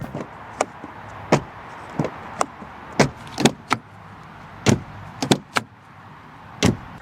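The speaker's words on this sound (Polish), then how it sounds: "odgłos zamykanych drzwi, który nadal nie brzmi zbyt majestatycznie" A 2025 Dacia Bigster car door is shut repeatedly, giving a series of sharp, solid thuds at uneven intervals against a quiet background, with no talking.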